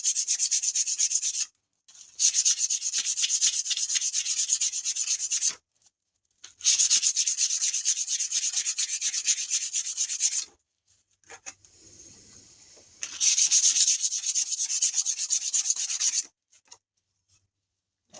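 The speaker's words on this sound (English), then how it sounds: "it's 80 grit sandpaper" Hand sanding with 80 grit sandpaper, likely on a wooden hammer handle, in long bursts of steady abrasive rubbing separated by brief pauses, close and loud with no talk.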